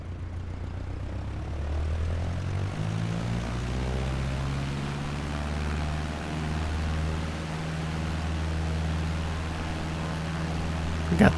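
A propeller aircraft engine runs at steady high power during takeoff in Microsoft Flight Simulator 2020, with flaps set at 10 degrees; the continuous droning hum holds level and loud throughout, with a brief rattle near the end.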